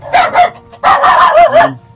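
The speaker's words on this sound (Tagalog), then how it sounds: "may mga aso" A dog barks sharply twice, then lets out a quicker run of loud, close barks and yips.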